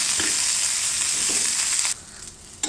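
Sweetcorn frying in a hot pan while being stirred, a loud dense sizzle that drops off abruptly partway through, leaving quieter crackle and a final scrape, up close with no speech.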